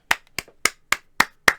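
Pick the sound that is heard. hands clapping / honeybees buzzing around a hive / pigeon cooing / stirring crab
hands clapping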